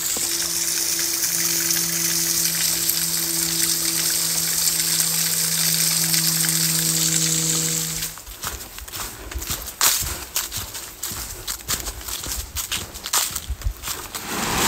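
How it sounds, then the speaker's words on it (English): A small waterfall at Big Branch Falls in Virgin Falls State Park, running low on water, gives a steady rushing wash for about eight seconds before the sound shifts to uneven nearby crunching and scuffing, like footsteps. "now we've come to Big Branch Falls"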